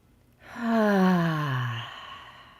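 One long, deep breath released close up as a voiced sigh, swelling quickly and then trailing off slowly into quiet.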